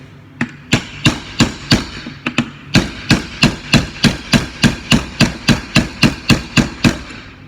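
A hammer pounds a long chisel to drive the inner CV joint off a 2004 Audi A4 1.8T S line driveshaft, a few scattered opening blows and then a steady run of about eighteen loud, close metallic strikes.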